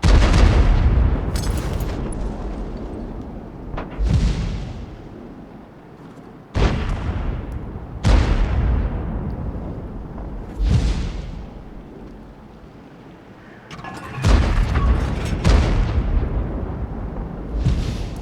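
Artillery guns firing in the tank game World of Tanks, loud booming shots with long rumbling decay, about six spread irregularly across the stretch, each rising out of a quieter ambient bed.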